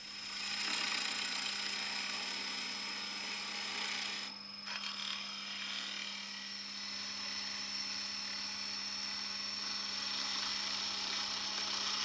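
Boxwood blank being roughed down on a wood lathe, a steady loud whirring cut with a constant motor hum underneath, briefly easing partway through before resuming, with no talking.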